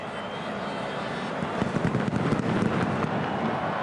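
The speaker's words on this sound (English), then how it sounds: "as we see some fireworks" Fireworks go off inside a football stadium in Rotterdam during a Netherlands–Moldova match, a cluster of distant crackling bangs rising over the steady roar of the crowd.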